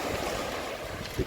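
Sea waves wash onto the shore at Sainte-Maxime in the Var, a steady rushing surge mixed with light wind buffeting, ending with a short louder burst near the close.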